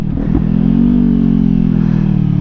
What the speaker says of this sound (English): I just kind of know how to downshift with the RPM because of the sound.